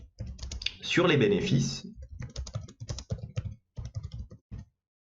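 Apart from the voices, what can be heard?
typing on a computer keyboard in Excel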